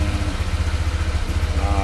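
A Honda Click scooter engine idles while warming up, a loud, close, steady low putter with a rapid even pulse and light mechanical clatter.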